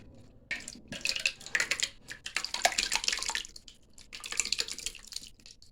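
Milk from a one-gallon container is poured into a cooking pot, splashing and gurgling in uneven bursts with short pauses, close and moderately loud.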